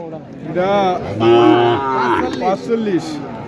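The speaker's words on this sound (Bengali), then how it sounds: "এইদিকে অনেক বকনা গরু উঠেছে" Heifer cattle lowing at a rural riverside cattle market on sandy char land in Manikganj, Bangladesh: several drawn-out moos, loud and close, overlapping one another with little else behind them.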